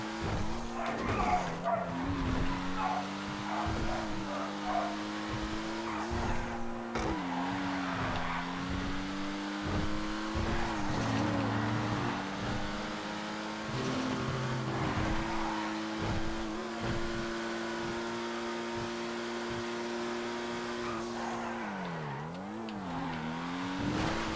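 Race cars in a GTA FiveM video game race drone loudly, with engine notes shifting through gear changes and tires skidding and squealing repeatedly. A faint voice is heard beneath the engine noise.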